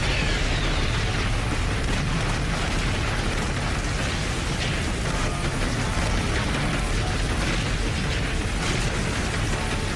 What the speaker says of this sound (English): Every gun shot together and the thing was off.